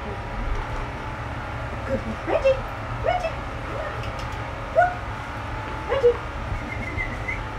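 A dog gives a few short yips, barks and whimpers at irregular moments over a low constant background hum. Voices are briefly present as well.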